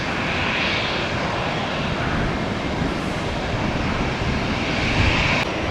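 A Boeing 737-800 jet airliner with a damaged right engine, seen while plane spotting at an airport, gives a steady, broad engine roar that holds evenly throughout with no voices.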